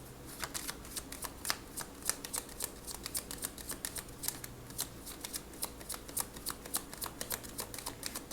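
Oracle cards are shuffled for a card reading, producing a steady run of soft, crisp riffling clicks and slaps repeating evenly throughout, quiet and close.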